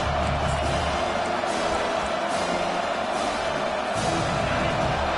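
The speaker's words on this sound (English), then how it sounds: "Decibels rising as the crowd gets behind this defense on third down." A football stadium crowd roars loudly and constantly on third down, a dense wall of cheering that holds steady and fills the whole clip.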